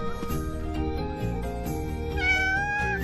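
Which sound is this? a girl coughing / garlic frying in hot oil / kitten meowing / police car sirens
kitten meowing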